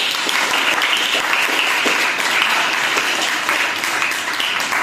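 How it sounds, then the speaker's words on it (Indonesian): Steady, dense applause from a classroom audience after student presentations, loud and close, holding evenly throughout with no pause. "Oke, berikan aplaus untuk kita semua."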